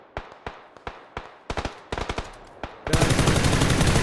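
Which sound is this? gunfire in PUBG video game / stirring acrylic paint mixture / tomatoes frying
gunfire in PUBG video game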